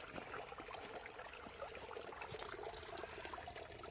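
Water trickles thinly from a spring outlet, a faint, quiet, continuous babble and dribble heard alone at close range.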